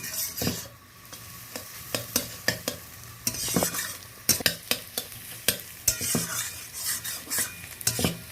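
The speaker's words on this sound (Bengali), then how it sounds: "লবণটা মিশিয়ে ডিমটাকে আমি সুন্দর করে কড়াইতে নেড়ে নিচ্ছি।" Beaten egg with salt is stirred and fried in a wok, with a continuous sizzle under repeated sharp scrapes and clinks of a utensil against the pan in an irregular stirring rhythm, close and clear.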